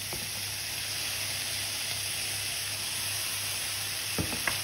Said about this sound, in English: then what I'm going to do is just continually keep stirring those. And that's on quite a high heat